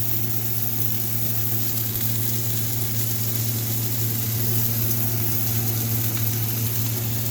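Teriyaki pork with garlic sizzling steadily in an oiled, seasoned pan, a continuous close frying hiss over a low steady hum, with no talking.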